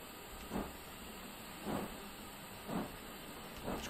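A steam locomotive in Train Simulator Classic on the Dorset coast line gives four rhythmic exhaust chuffs, each a soft hissing burst about a second apart, over a steady background hiss.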